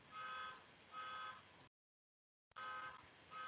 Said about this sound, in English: wait for my car alarm in the distance to turn itself off